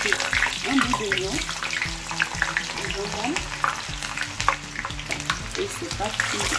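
A piece of onion fries in hot oil in a pan with a dense, continuous sizzle and crackle, loud and close, while someone talks over it.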